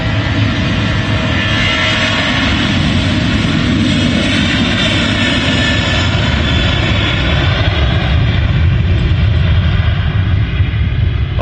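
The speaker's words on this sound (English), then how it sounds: "Here we go, Ryanair 737 next." A Ryanair Boeing 737 jet passes close at Manchester Airport, its engines producing a loud, steady, broadband roar with a deep rumble that holds for the whole stretch and swells slightly toward the end.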